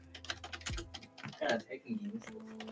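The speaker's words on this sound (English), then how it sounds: "Carmi, what kind of typing simulator is this?" Computer keys clatter in quick, uneven bursts at close range, with a low hum and some faint background sound underneath.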